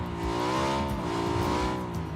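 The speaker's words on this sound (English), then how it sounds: "And very conveniently, I have a motorcycle." A motorcycle engine in a video game revs continuously, its pitch swelling and settling in smooth waves, loud and close with no voices.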